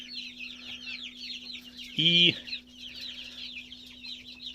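Chicks and young birds in a poultry coop give soft chirps and peeps under a steady electrical hum, broken by one louder, nearer call, and a voice speaks briefly.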